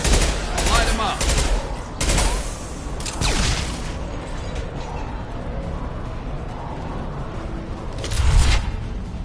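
Rapid gunfire bursts and booming shots from a Mass Effect 2 firefight crack loudly in clusters, separated by quieter stretches of combat noise.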